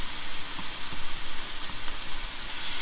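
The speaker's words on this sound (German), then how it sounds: "So, jetzt brate ich das Ganze an, dass es leicht Farbe hat." Pieces of hare and button mushrooms sizzle in a hot frying pan, a steady, close crackling hiss with faint pops and no talking.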